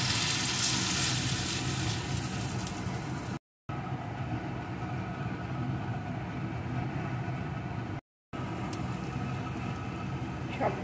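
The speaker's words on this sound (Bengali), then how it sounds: "এখন পকোড়াগুলোকে দিয়ে ভেজে নেব।" Banana flower fritters fry in oil over low heat, giving a steady, dense crackling sizzle that runs close and unbroken, with no voices and two short silent gaps.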